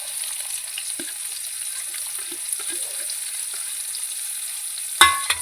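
Sliced onion frying in a pan makes a soft, steady sizzle with faint scattered crackles and a louder clatter near the end, and no one speaks.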